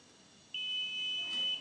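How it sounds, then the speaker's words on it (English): A loud, steady high-pitched buzzer tone from a design project device switches on abruptly alongside a red LED after a short quiet stretch and holds continuously. "the buzzer is enabled as you can hear the sound"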